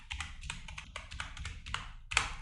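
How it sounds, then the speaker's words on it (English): Quick, light taps on a computer keyboard, a run of about a dozen close keystrokes in an uneven typing rhythm, quiet and alone. "So I'm typing something."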